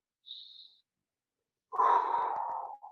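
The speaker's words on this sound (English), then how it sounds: "just sit down on your chair like this and breathe" Slow, deep breathing during a seated relaxation exercise: a soft brief inhale followed after a pause by a longer, louder, breathy exhale, close to the microphone.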